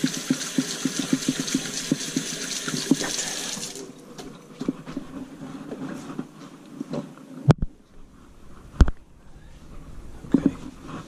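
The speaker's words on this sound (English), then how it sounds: "I'll just rinse my hands." Tap water runs steadily into a kitchen sink for a few seconds while hands are rinsed after preparing a whole rainbow trout, then cuts off, leaving scattered handling clicks and clatter.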